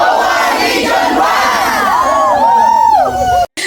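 Crowd of employees cheering, whooping and shouting loudly at an office team-building event with performances, excited overlapping voices rising in waves before cutting off abruptly near the end.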